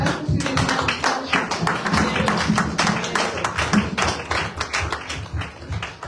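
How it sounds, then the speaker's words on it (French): A church congregation claps through a Sunday worship service, producing steady, dense applause with rhythmic taps that carries on for the whole stretch, loud and close, with faint voices mixed in. "Applaudissons pour le Seigneur."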